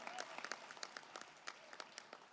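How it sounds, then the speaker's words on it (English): A convention audience at a Democratic National Committee general session claps for a congressman, sparse and faint with distinct individual claps spiking irregularly above a thin background. "Let's give Lloyd a round of applause."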